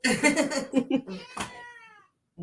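A cat meows several times up close, ending in one long, drawn-out, falling meow, followed by a short pause.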